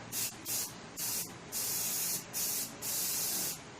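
Aerosol spray paint coating the wheels of a 1959 Riverside scooter, heard as six short, close hissing bursts in an uneven rhythm, the last few lasting longer, with no talking.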